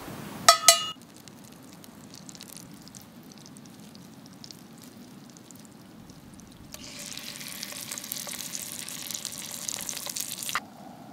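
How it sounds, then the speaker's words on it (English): Fish roe and scraped fish meat fry in a pan at an Alaskan camp: a soft, steady sizzle that swells louder over the last few seconds, with a brief clink near the start and no talking. "We're just gonna take some roe and some of the meat we scraped from the bodies and fry them up in a pan"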